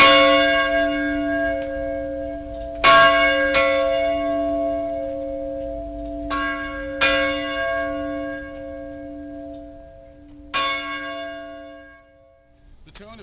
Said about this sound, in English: most UGA students, while walking back to their dormitories, will stop by the bell and pull it, as Carlos will demonstrate for you.